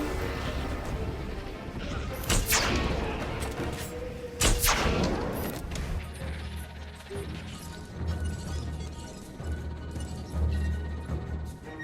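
Jurassic World Evolution video game: a ranger vehicle under dinosaur attack gives two sharp, loud crashing impacts close together early on, then low rumbling and scattered knocks, with faint game voice and talk underneath.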